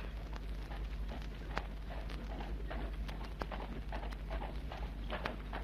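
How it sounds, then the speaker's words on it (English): A horseman approaches with a steady clip-clop of hooves and faint scattered clicks over a low rumbling background, moderately distant and fairly quiet throughout. "I'm sure there's a horseman approaching."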